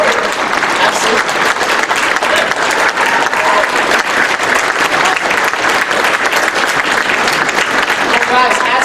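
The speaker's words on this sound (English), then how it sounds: "Yeah, give him a round of applause." A live stage audience claps in a dense, continuous round of applause at the close of a show, loud and sustained throughout with no pause.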